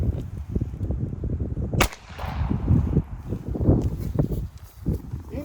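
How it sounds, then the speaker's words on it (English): A single sharp gunshot from a Ruby pistol firing 71-grain .32 ACP full metal jacket rounds at a Spanish M42/65 steel helmet, at about five to six yards. The crack is loud and brief, set among ongoing rustling and movement. "now we're gonna be using 71 grain 32 ACP full metal jacket out of a Ruby pistol"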